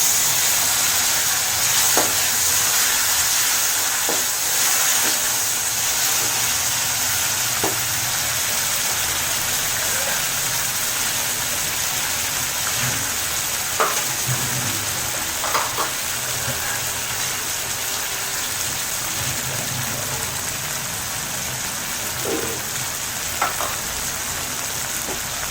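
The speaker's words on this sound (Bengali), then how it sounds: "এবার টমেটো অ্যাড করে দেব।" Tomatoes added to a hot frying pan for a no-onion, no-garlic black chickpea curry, sizzling in a steady, close hiss with occasional light stirring clinks and no talk.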